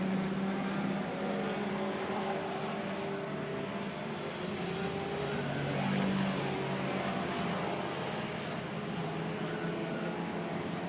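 Steady, droning engine roar from classic sports cars racing at Brands Hatch, including an MGB, heard at a distance as a continuous broad rumble without talk.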